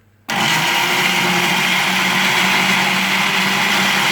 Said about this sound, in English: with a blender like this, I put on the lowest possible setting